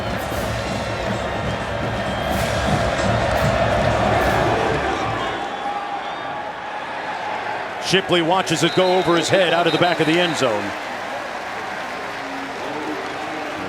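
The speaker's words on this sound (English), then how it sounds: "A raucous crowd here today." Raucous college football crowd at Carter Finley Stadium during Clemson at NC State, a broad steady roar that later rises into louder swelling cheers, with a commentator talking over it.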